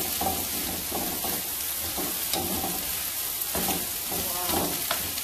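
Egg being mixed into mixed seafood fried rice in a hot pan, a steady loud sizzle broken by rhythmic scraping and tossing strokes roughly every half second, with no talk.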